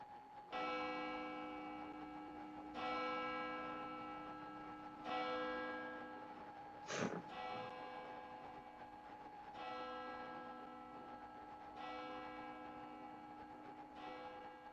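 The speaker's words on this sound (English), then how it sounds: "The bells you hear are ringing to warn people to evacuate the city as the Martians approach." Large warning bells toll over a city in slow, evenly spaced strokes, each ringing out with a long resonant hum, plus one brief sharp knock midway, in a live radio-play reading.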